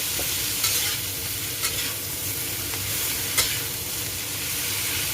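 Bitter gourd stir-frying in a pan: a constant close sizzle broken by a few brief scraping taps as it is stirred.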